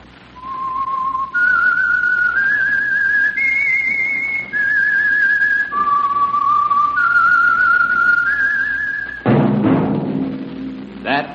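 A whistled tune of sustained, gliding notes stepping up and down in pitch, loud and close, serving as the signal theme of the Signal Oil Program's The Whistler radio drama, ending in a burst of broadband noise.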